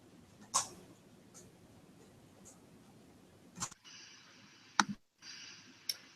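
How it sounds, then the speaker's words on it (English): A computer keyboard is thumped in a quiet room, with a handful of sharp, scattered key taps spaced seconds apart against a low background hum. "I'll try not to thump on my keyboard so much when I'm pulling up Bible verses"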